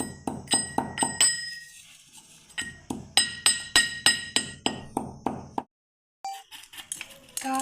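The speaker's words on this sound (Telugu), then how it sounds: "మెత్తగా దంచుకోవాలి." A pestle pounds cumin and salt in a mortar with rhythmic strikes, each a hard knock with a bright clink. Two runs of steady blows are split by a short pause, then a brief silence and quieter handling.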